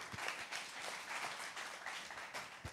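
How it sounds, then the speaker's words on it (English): Audience applause at a startup event as guests take the stage for a fireside chat, steady dense clapping filling the whole stretch at moderate distance, with no talk over it. "Let's give them a round of applause."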